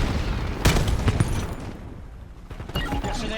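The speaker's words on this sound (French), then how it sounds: "Grenade à dispersion visuelle." A visual dispersion grenade goes off in the Black Ops 7 multiplayer beta: a sharp loud burst with a crackling tail, followed by scattered gunfire and game voice announcements amid the battle noise.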